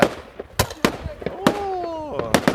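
New Year fireworks set off at home, with sharp loud cracking bangs in an irregular series mixed with whistling sweeps, while voices are heard nearby.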